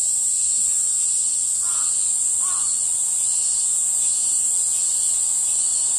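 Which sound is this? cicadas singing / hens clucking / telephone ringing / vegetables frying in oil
cicadas singing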